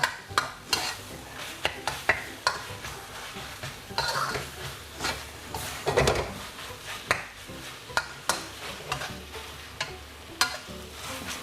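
Wild boar stir-fries dry with dill leaves, a spatula scraping and tossing in rhythmic, close strokes over a constant sizzle, with occasional louder clatters of metal.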